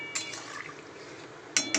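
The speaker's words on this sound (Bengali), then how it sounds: "মাছগুলো একটু ডুবো ডুবুর পরিমাণে জলটা দেব" Water poured over fried fish and potatoes in a pan for Bengali fish curry, a soft liquid splash with glassy clinks at the start and end, brief and close.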